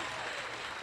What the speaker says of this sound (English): we got to give her a round of applause